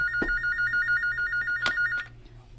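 An electronic telephone rings with a steady warbling trill in repeating bursts, fairly loud and close, then cuts off after about two seconds amid faint room noise.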